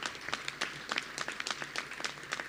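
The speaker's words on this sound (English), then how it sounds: "we've already joined in giving them a big round of applause, but I think they deserve another one" A crowd at a community event for a neighborhood grant gives another round of applause, soft and somewhat distant, with scattered individual claps standing out from the dense patter.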